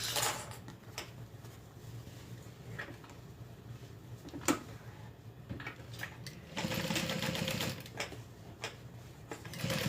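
A sewing machine runs in bursts while top stitching a small bag, its rapid mechanical clatter starting and stopping, with louder sustained runs toward the end and light handling clicks between.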